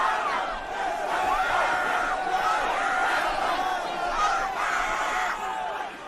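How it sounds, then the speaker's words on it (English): A large concert crowd at the Astroworld festival yells and chants together in a sustained, dense roar, with high screams rising above the mass of voices throughout. "it kind of sounds like a lot of people chanting it"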